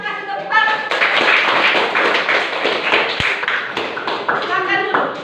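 Classroom of students clapping together on cue from their teacher, a dense, close run of rapid hand claps lasting several seconds, with voices mixed in.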